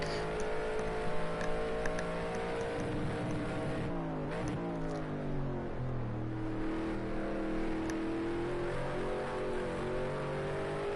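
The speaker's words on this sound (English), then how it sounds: "Just on board now, seeing what a race lap from the leader looks like" Onboard race car engine on a racing lap at Watkins Glen, revving continuously with rising and falling pitch through gear changes and corners, loud and steady for the whole stretch.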